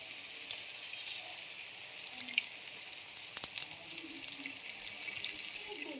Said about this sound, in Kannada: ಮಸಾಲೆ ಫ್ರೈ ಆದಮೇಲೆ ಈಗ ನಾನು 5 ಮೊಟ್ಟೆನ ಹೊಡ್ಕೊಂಡು ಹಾಕ್ಕೊತಿದ್ದೀನಿ